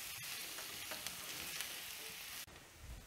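Baby potatoes frying in duck fat in a cast iron skillet: a quiet, continuous crackling sizzle with a few soft stirring knocks and a brief dip near the end.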